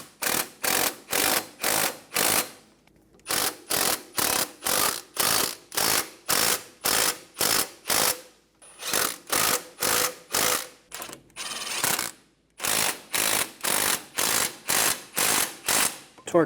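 Ratchet snugging the front hub assembly bolts on an Infiniti G35, steady rapid clicking strokes close and loud, repeated in long even runs with brief pauses between bolts.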